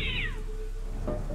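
Cat meowing in the horror game Sophie's Curse: a single clear, close meow with a falling pitch, followed by a shorter softer call, heard alone without talking.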